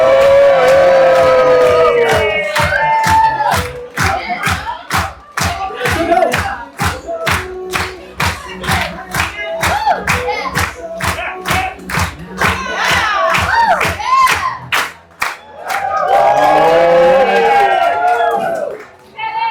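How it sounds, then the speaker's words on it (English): Aboard a cruise ship at sea, an audience claps in a steady rhythmic beat while music thumps and a host's voice rises over the crowd noise, with cheers and shouts breaking in near the end. "Make some noise. Make some noise."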